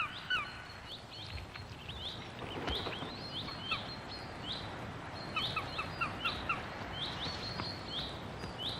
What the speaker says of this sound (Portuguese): seu companheiro a chama para o posto de depenar para pegar comida